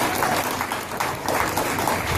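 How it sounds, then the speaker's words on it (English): Audience applause at a boxing press conference for a featherweight champion, a dense burst of clapping from a room of attendees, loud and continuous over the short span. "Round of applause for Carl Frampton."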